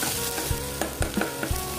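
A pan of spinach and potato base frying over a low flame gives a steady close sizzle, with soft, regular stirring knocks about every half second and no voices.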